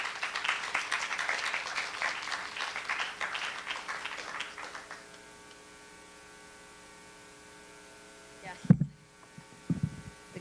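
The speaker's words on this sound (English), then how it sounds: "So everybody please give her a warm round of applause, Naomi Hirahara." An audience at a literary reading celebrating writers of color applauds warmly for about five seconds before the clapping fades into a steady electrical hum, followed by a couple of dull thumps.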